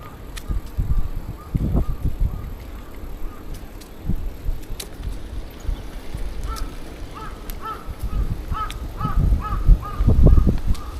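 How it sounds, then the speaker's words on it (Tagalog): Crows caw repeatedly in Tokyo, loud harsh calls coming in bursts, some near and some farther off, over outdoor traffic and bicycle rolling noise. "Lakas ng mga uwak, no?"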